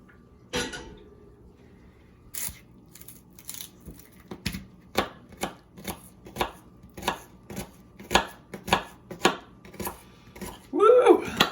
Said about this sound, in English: Chopping onions always makes me a little sad.